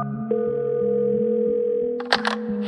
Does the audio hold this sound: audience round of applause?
no